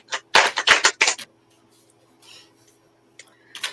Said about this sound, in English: Let me shuffle these up a little more.